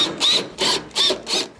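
Phillips screws are backed out of a Whirlpool stove's top panel with a tool, making four evenly spaced, fairly loud ratcheting bursts with short pauses between them.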